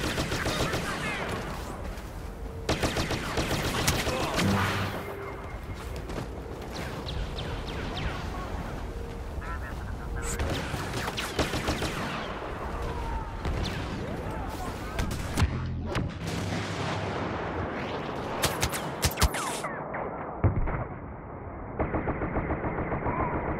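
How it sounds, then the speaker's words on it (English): Rapid, dense gunfire and explosive shots from a sniper rifle firing at a droid in Star Wars Battlefront, continuous and loud throughout, with sharp bursts standing out near the end and someone talking over it. "I'm hitting that thing with a goddamn sniper rifle with an explosive shot on the droid"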